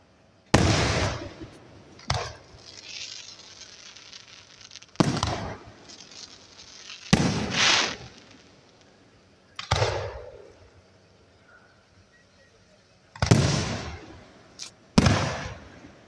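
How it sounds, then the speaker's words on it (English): Fireworks launched at a small-town farm show in Williamsburg, Pennsylvania, at night, with loud sharp bursts and cracks recurring every couple of seconds, some followed by crackling tails, alone without talk. "Shooting off some good fireworks tonight."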